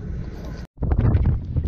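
Gusty wind buffets a microphone outdoors beside a trout fishing spot, with rumbling bursts on either side of a brief silent gap.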